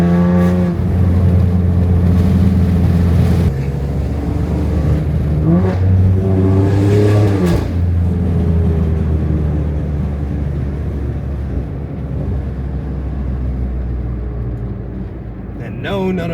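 A tuned, catless 600 hp BMW X3M with an S58 engine revs hard in loud, rising pulls that fall away between bursts, then settles into a sustained throaty drone that fades slightly toward the end.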